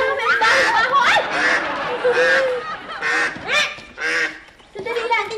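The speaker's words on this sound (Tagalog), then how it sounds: "Ba't ang daming itik sa kwarto?" Ducks quacking inside a room, with repeated nasal honking calls rising and falling over several seconds, mixed with excited voices talking.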